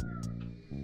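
A house cat meows briefly and close by, a short call lasting under a second over a steady background hum.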